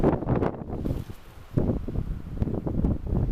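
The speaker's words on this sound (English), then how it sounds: "It is so windy, guys" Gusty wind in Desert Hot Springs, California buffets the microphone in low, uneven rumbling bursts, with a brief lull before the gusts pick up again.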